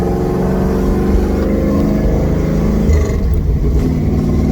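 A 640-horsepower four-speed Dodge Charger accelerates with a loud, dense, continuous engine roar and rumble from inside the car, steady throughout with a slight shift in tone partway through.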